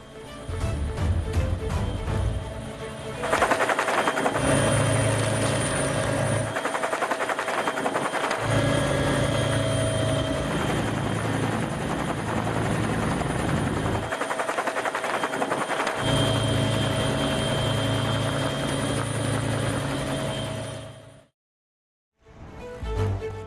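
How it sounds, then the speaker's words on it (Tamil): Indian Navy helicopters from the carrier INS Vikrant fly over a cyclone-flooded area of Sri Lanka during rescue work, a loud continuous rotor thrum with rapid blade chop that swells and eases, holding steady for most of the stretch before a brief gap. "இந்திய கடற்படை ஐஎன்எஸ் விக்ராந்த் கப்பலில் உள்ள ஹெலிகாப்டர்கள் மூலம் மீட்பு பணிகள் நடைபெற்று வருகிறது"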